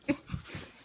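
A puppy lets out a brief, faint whimper and a couple of soft yips and snuffles close by, all within a second, with no talking.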